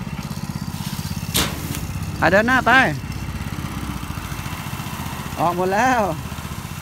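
A walking tractor engine idles with a rough, steady putter for the whole stretch while people talk and call out instructions over it.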